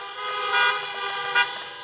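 A chorus of car horns sounds continuously at an outdoor drive-in campaign rally in Des Moines, Iowa, with overlapping sustained honks and two brief louder blasts standing out.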